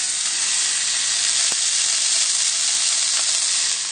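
Trout fillet frying skin-side down in a hot pan, a loud, steady, close sizzle with no pauses, broken by a few faint clicks.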